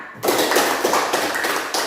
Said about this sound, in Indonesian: Oke, semua tepuk tangan.